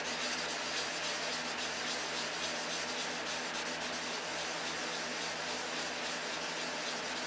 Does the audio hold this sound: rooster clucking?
no